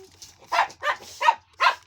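A dog lets out four short, sharp barks close by, evenly spaced over about two seconds.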